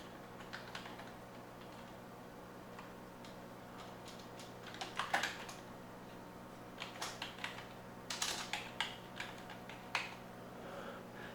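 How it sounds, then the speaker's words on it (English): Someone types a password on a computer keyboard, with soft irregular clicks and small bursts of keystrokes over a steady background hum and no speech. "How do I type my password without you looking at my hands?"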